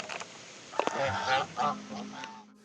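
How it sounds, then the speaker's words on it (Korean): Geese on a university campus pond honk repeatedly in a loose, irregular series at moderate distance, with outdoor ambience and no talk. "저 거위가 있네."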